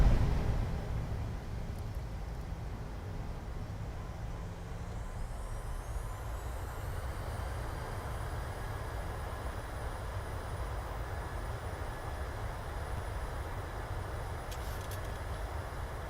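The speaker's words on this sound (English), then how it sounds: "And touchdown, reverse thrusters." An airliner landing in a flight simulator game with reverse thrust engaged roars as one steady, fairly quiet rush of engine noise, spooling up slightly with a rising whine, and no voices are heard.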